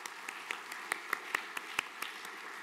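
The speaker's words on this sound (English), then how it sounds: "Round of applause." Applause at a Sunday night chapel service after the team is thanked, heard as scattered, fairly faint clapping with a few sharper claps standing out over a quiet room.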